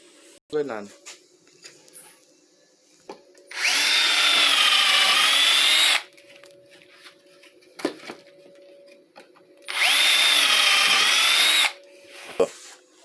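A power drill bores holes in a drawer unit panel in two loud bursts of about two seconds each, separated by quieter handling knocks and light taps.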